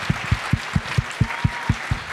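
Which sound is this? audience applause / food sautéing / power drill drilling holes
audience applause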